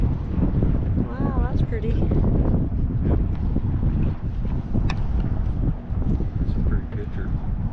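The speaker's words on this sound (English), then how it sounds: "Breezy, got some breeze." Breeze at a lake on Palmetto Shores RV Resort, Lake Marion, rushes and buffets against the microphone in a constant outdoor roar, heard under a person's close, casual talk.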